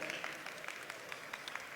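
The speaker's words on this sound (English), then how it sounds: "Just clap if you were there that night" Scattered, faint clapping from a small number of people in an awards-show audience, thin and uneven hand claps at a distance with no talking over them.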